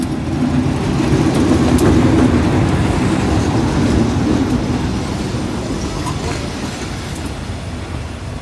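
A GEA 4530 diesel locomotive hauls rapid train 172 from Sungai Kolok to Bangkok through Ban Pong station, a loud, steady rumble of engine and rolling cars that eases slightly as it passes, with no talking.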